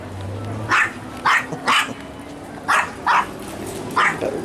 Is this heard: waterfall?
no